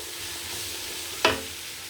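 Spring roll vegetables are stirred in a hot pan, a steady hiss of frying broken by one sharp clack of a utensil against the pan near the end, close and without talk.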